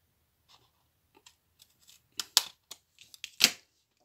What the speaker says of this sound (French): On va faire un petit coup de ciseau.